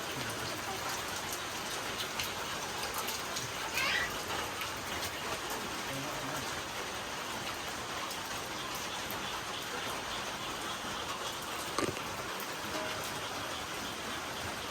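Steady rain falls throughout on a rural Lao homestead, a dense continuous hiss of drops hitting surfaces with no voices, a few slightly louder drips standing out near the middle and toward the end.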